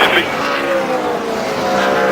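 A NASCAR stock car wreck on the final corner at Daytona, cars slamming hard into the wall amid roaring engines and screeching tires, with an excited commentator talking over the loud, continuous racing noise.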